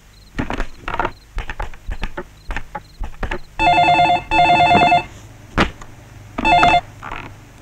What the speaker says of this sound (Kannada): ಫೋನ್ ಹಚ್ಕಡ.